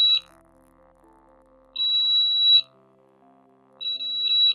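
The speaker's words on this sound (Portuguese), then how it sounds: "Quando eu chego menos de 5 centímetros, ele bipa." Two sustained high-pitched electronic beeps from an Arduino ultrasonic sensor kit buzzer, each lasting under a second, separated by a pause, over faint quiet background tones.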